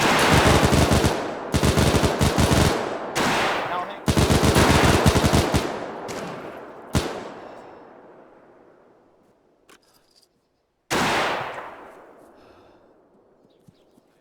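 Loud, close machine gun fire in the video game Arma Iron Front comes in several long rapid bursts, followed by fading echoes, a few isolated distant shots and a short voice.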